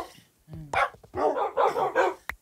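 Dogs barking in the Minecraft video game: a handful of sharp, close barks in quick succession, clear and fairly loud, with a soft voice faintly underneath.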